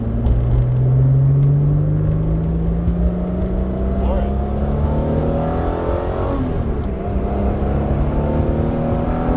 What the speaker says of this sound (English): Alright, second gear. Let's do a solid pull here.